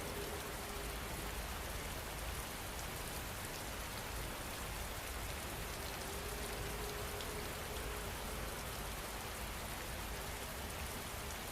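Steady rain falls without pause, a soft continuous hiss of drops on surfaces, even and unbroken throughout, with no voices.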